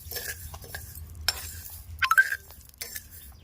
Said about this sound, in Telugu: ఇప్పుడు పెసరబ్యాళ్ళు మన పొట్టు పెసరబ్యాళ్ళు తీసుకొని వీటిని వేయించుకోవాలి